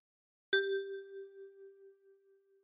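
A single note plucked with the right thumb on a ten-key kalimba: one clean metallic ping that rings on in a long, slowly fading tone, heard alone.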